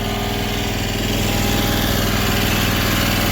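A HUAYEE 480C mini skid steer engine runs at full throttle, a loud, steady, close-up small-engine drone with a constant rapid pulsing and no speech over it.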